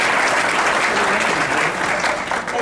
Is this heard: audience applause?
yes